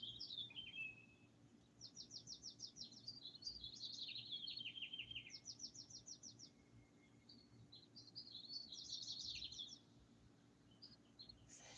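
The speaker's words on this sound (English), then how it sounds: "Oh, I love the birds. They chirping." Birds chirp outdoors in quick trilled bursts and short high tweets, faint and somewhat distant, repeating over steady low background hum.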